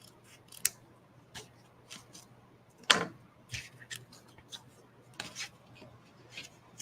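Scissors trim excess paper from photo album pages in a baby brag book, giving sparse, quiet snips and small paper rustles spaced irregularly, close and faint, with no talking.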